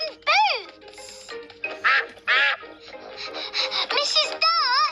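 Mrs. Duck, a Peppa Pig cartoon duck, lets out a string of loud, nasal quacks in uneven bursts, mixed with squeaky cartoon voices and children's chatter.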